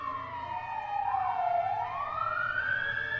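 An ambulance siren sweeps down and back up in a smooth wailing tone, steady and fairly clear, sounding alone for a few seconds.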